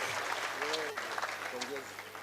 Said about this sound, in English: We can give a clap to HOD Electrical and Electronic.